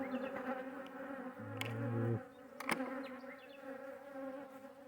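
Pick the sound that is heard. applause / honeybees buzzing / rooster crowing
honeybees buzzing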